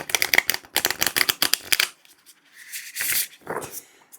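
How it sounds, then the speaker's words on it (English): A Rabbit Tarot card deck is riffle-shuffled close by, a rapid crisp flutter of cards for about two seconds, followed by softer bridging and tapping as the deck is squared up. "Let's give one last shuffle."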